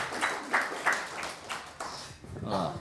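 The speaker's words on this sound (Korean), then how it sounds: "두 분 고맙습니다. 박수 한번 쳐주십시오." A small audience at a social workers' association election debate claps briefly and unevenly, with soft talk mixed in.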